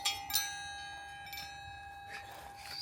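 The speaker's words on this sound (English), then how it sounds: "when the wind blows on it, it's like a giant wind chime" Hanging junk metal art clinks and rings like a giant wind chime in the wind outdoors in Jerome, Arizona. Several separate bell-like clangs sound, each leaving a long shimmering decay.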